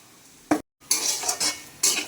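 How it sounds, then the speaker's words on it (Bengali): Food stirred in a cooking pot on a home stove: a few close, loud metal scrapes and clinks of a spoon against the pot over a soft sizzle, with a brief silent gap. "এবার নাড়াচাড়া চলছে, প্রায় হয়ে এসছে।"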